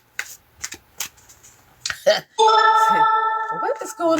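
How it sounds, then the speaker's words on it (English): A rapid burst of several overlapping phone notification chimes, bright tonal pings stacking up loud and close after a few sharp taps and clicks. "I don't normally get that many notifications in a few minutes"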